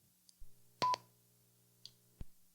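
A Wouxun KG935G handheld radio sounds its beginning-of-transmission beep, a short clean electronic tone near the microphone, amid a few faint clicks and a low steady hum.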